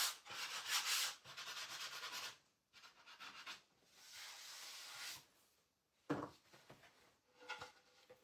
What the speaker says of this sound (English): I sand over my transfers.